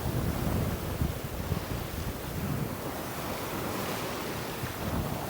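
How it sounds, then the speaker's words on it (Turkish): Waves crash against the rocky shore of a small island in the Aegean off İzmir, a rolling roar of surf mixed with gusty wind buffeting the microphone, with no voices. "Oo, dalgalar sert vuruyor."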